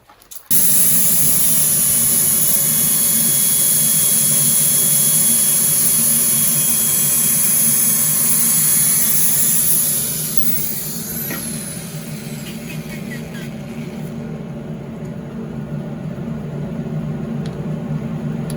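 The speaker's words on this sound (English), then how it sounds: "so let's get some sanding done" A power sander whines loudly and steadily for several seconds while sanding a burr sweet chestnut wooden bowl, then its pitch drops and it runs more quietly as it winds down.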